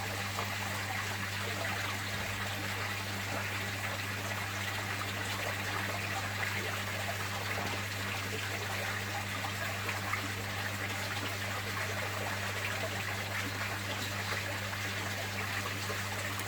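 Water drains from a small cherry shrimp tank in a steady, even trickle over a constant low electrical hum, unchanging throughout.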